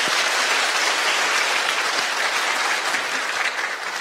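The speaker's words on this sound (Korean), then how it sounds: "박수 부탁드리겠습니다." An audience at a book talk show in Hwaseong breaks into loud, close applause. Dense, continuous clapping runs for about four seconds and tapers slightly at the end.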